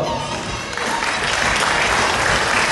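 An audience at a regional leaders award ceremony applauds in a dense, steady burst of clapping that fills the whole moment.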